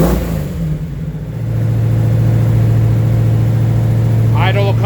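A Ferrari Daytona engine runs at a high cold-start idle in a chilly garage, a loud, steady low drone that settles and holds, with a brief rise in revs near the end.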